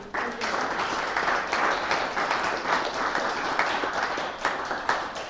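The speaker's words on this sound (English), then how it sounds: "let's have one more round of applause for everyone." A crowd gives one more round of clapping at a book-challenge finale event, a steady, moderately loud wash of many hands lasting about five seconds.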